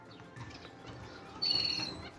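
Pet birds in a rooftop aviary give a few faint, brief calls against quiet background hiss, ending with a sharper high chirp near the end.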